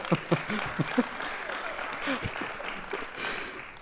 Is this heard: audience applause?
yes